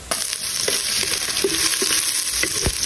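Ginger sautés in hot oil as the first step of arroz caldo, a steady bright hiss with scattered soft clinks and scrapes of a stirring utensil, close and fairly loud, with no voices.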